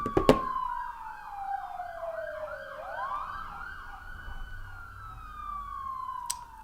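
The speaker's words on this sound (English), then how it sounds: "That siren is driving me nuts." An emergency vehicle siren wails outside, sweeping down and back up in a steady high electronic tone over a few seconds, moderately loud and alone.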